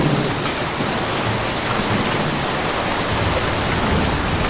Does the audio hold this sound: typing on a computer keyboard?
no